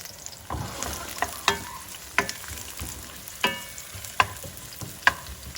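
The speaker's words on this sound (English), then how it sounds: "and the shallot, dump it in the oil" Shallot and fennel frying in oil, stirred with a spoon: a quiet background sizzle broken by about a half-dozen sharp metallic clinks and scrapes at irregular intervals, close up, with no talking.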